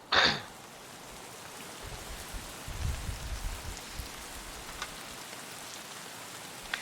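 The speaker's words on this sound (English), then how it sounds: "I hear rain." Soft, steady rainfall in the video game Escape from Tarkov, a hissing patter heard alone, opened by a brief sharp noise and joined by low rumbling thuds partway through.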